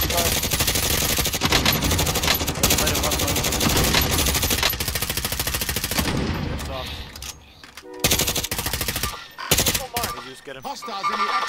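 Automatic gunfire from hostile fighters in a modern military shooter video game, dense rapid bursts running nearly continuously, then breaking into separate shots and short volleys toward the end.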